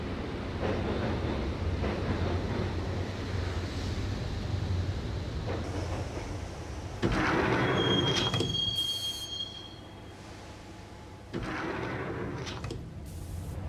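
A train rolls steadily along the rails with a continuous rumble, joined midway by a high, sharp wheel squeal before the noise briefly drops and resumes.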